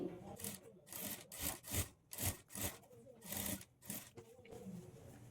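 A sewing machine stitches piping cloth onto the back neck of a blouse, running in short repeated bursts with brief pauses between them, close and fairly quiet.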